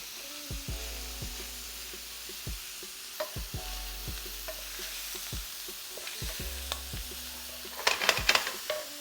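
Seasoned shrimp sizzling in a frying pan, a soft steady hiss under repeated clinks and taps of a utensil against the pan, with a louder scraping stir near the end and no talking.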